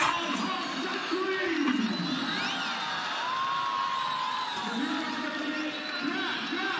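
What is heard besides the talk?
cricket crowd cheering at Rawalpindi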